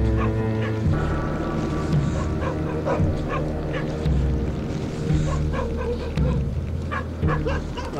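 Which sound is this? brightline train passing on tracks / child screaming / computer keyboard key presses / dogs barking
dogs barking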